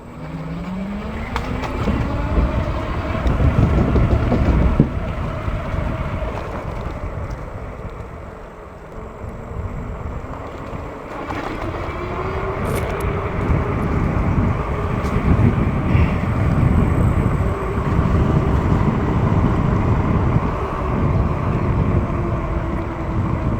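Tannus Armour bike tires humming steadily along the road during a ride at around 20 mph, a continuous rolling drone with wind rush and a rising and falling whine, no talk.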